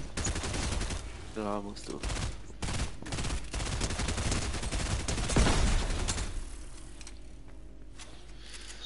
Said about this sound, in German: Da muss ich eben den Maschinenpistole einsetzen.